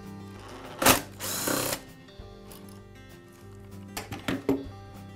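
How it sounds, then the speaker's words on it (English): Screws holding the arbor assembly retainer on a Ridgid miter saw are backed out with a power driver: a sharp whir and a longer buzzing run early on, then several short, quicker bursts near the end, close and clear. "I'll remove the three screws that secure the retainer."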